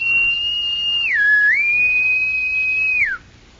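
A man gives a clear, sustained signal whistle, a steady high tone that dips lower for a moment, climbs back and holds, then slides down and cuts off, heard alone at close range with no talk.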